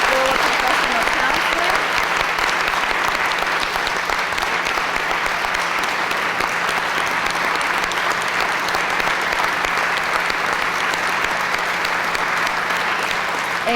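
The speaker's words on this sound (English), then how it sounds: "let's give a round of applause to the 2008 graduate class of the School of Professional Counseling." Sustained audience applause for the 2008 graduate class of the School of Professional Counseling at a graduation pinning ceremony, even and continuous for nearly fourteen seconds, a large crowd heard at moderate distance with a faint hum beneath.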